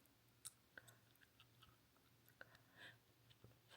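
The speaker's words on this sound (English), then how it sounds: "I'm gonna take my little chewies and I'm just gonna chew them" Chewing on reusable aligner chewies with Byte clear aligners in place, a quiet series of soft, irregular clicks and squishy bites close to the mic.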